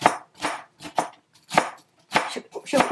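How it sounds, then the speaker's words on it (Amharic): Knife chopping onion finely on a cutting board for Ethiopian cooking, a close series of crisp irregular chops with short pauses between them. "ድቅቅ አድርጎ መክተፍ ሲባል ይሄ ነው።"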